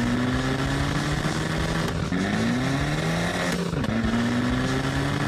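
A monster truck engine in a cartoon drones loud and continuous, its pitch rising and dipping through several revs with a whooshing pass, alone without talk.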